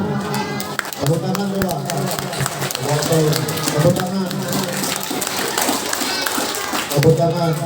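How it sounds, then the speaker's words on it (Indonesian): An audience claps together at an Islamic sermon gathering, a dense patter of hands that carries steadily through the whole stretch while voices talk over it. "Tepuk tangan coba."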